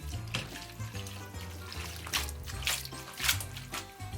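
A small splash of water runs and trickles into a pan of cacio e pepe pasta for a few seconds, with soft splashing bursts over a steady low background hum.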